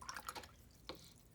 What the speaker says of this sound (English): if there's any paint on my brush, I've just rinsed it out